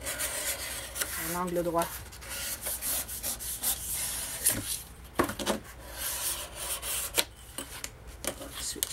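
A thin, sharp metal ruler presses and rubs along a paper fold while scrapbooking, making repeated dry scraping strokes at close range; someone speaks briefly in French over the scraping.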